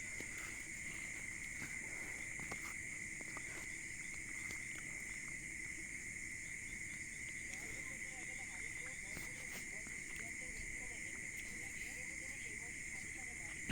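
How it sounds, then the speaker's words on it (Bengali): Crickets chirr steadily at a rural family home in Shariatpur, Bangladesh, a continuous high-pitched drone that stays even and fairly faint throughout, over a low, quiet background. "তাই একটু ঝিঝি পোকার শব্দ হচ্ছে একটু"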